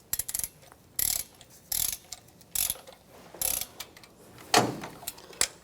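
A ratcheting socket wrench torques the valve cover bolts on a 2008-2013 BMW 328i xDrive to 7.5 foot-pounds. Several short, crisp clicking bursts come up close, spaced apart with quiet gaps between them.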